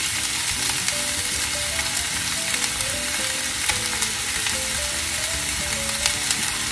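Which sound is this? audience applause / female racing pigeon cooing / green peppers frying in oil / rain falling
green peppers frying in oil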